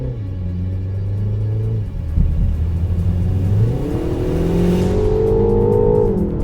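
A 2025 MINI Countryman S All4 engine revs up and accelerates hard on an on-ramp in go-kart mode, its droning pitch climbing steadily and loud throughout, with a constant road rumble beneath.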